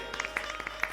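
A few scattered claps from a live audience at a religious talk on Sawan worship, light and uneven over a steady low hum.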